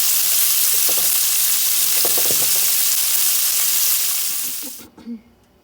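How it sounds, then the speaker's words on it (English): Bacon frying in a pan for Southern-style fried cabbage, a steady dense crackling sizzle with a few soft clinks near the start, stopping abruptly near the end. "I fried my bacon and I've set it aside"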